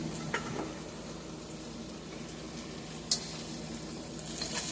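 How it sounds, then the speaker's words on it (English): Boiled beef cubes sizzle steadily in a fryer, a continuous soft crackling hiss with one sharp tick partway through. "I'm going to transfer them in the fryer and I'm going to season them up"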